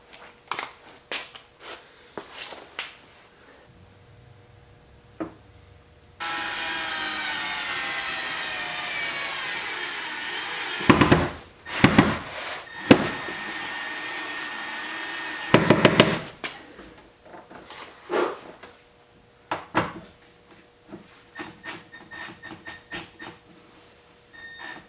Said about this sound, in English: I'm going nice and slow when I'm drilling these in